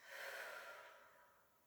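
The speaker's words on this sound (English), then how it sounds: "Deep breaths." One slow, deep breath taken while lying on the floor during a stretching exercise, a soft airy exhale that swells and then fades over a couple of seconds, close and quiet with no talking.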